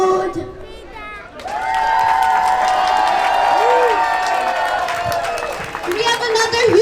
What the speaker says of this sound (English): We have another huge round of applause for our Arabic program students.